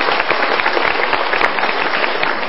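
A studio audience at a televised motivational talk show breaks into dense, continuous applause. The clapping is loud and close, an even wash of many hands with no voices on top.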